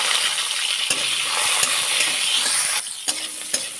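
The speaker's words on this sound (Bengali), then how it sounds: "প্রথমে উচ্ছেটা ভেজে নেব।" Bitter gourd frying in oil with a little salt, bright crackling sizzle broken by several sharp spatula knocks against the pan, close and loud with no speech, in a Bengali kitchen preparing koi fish cumin curry.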